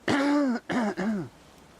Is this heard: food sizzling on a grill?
no